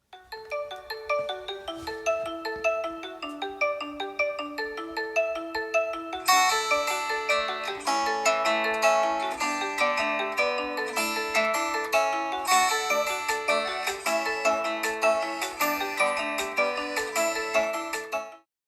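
A Xiaomi 15 phone's speaker plays a ringtone tune, starting with a simple plucked melody and then swelling into a fuller, brighter arrangement that repeats steadily and loudly for about eighteen seconds.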